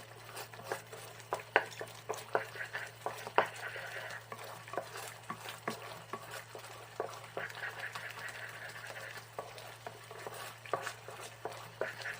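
A spoon scrapes and taps repeatedly against a pan in an uneven rhythm, soft stirring of thick beetroot halwa with ghee over a faint steady hum.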